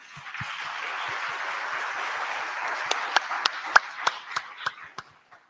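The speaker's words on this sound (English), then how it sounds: "Can we get another round of applause?" Audience applause at a digital opportunities gathering, a dense wash of clapping that holds steady and then thins into a few separate, louder claps before stopping.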